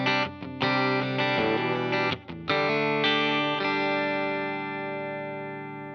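Electric guitar chords played through a Cali 76 compressor pedal with reverb off, a thick, even, compressed tone, a few strums then a long sustained chord slowly fading out.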